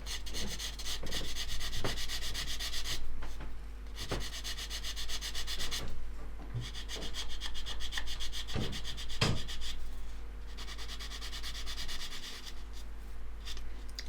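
Sanding a bead of super glue and talc along a seam on a plastic model, repeated close rasping strokes in bursts with short pauses and occasional light taps, over a low steady hum.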